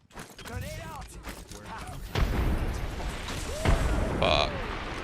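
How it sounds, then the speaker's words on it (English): A grenade blast in the Apex Legends video game lands mid-fight among other combat noise, a sharp loud burst about two seconds in followed by more pops and gunfire, with people talking over it throughout. "Grenade out! Grenade out!"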